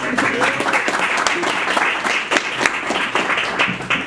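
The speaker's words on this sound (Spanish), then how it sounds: "Un aplauso para Women Who Code" Audience applause for Women Who Code at a Friday evening tech talk in Buenos Aires, steady dense clapping from a crowd lasting throughout, with some voices mixed in.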